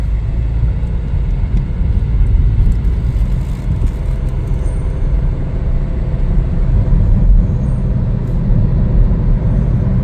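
A 2023 Chevrolet Trailblazer FWD LT on a test drive, heard as a steady low cabin rumble of engine and road noise with a faint whir, continuous and fairly loud throughout.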